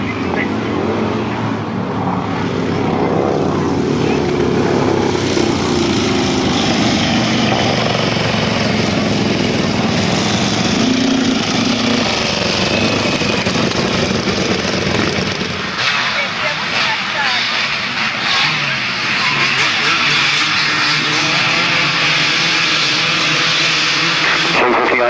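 Grasstrack racing motorcycles at a 1991 meeting revving their engines on the start line, a loud, continuous roar with a commentator talking over it.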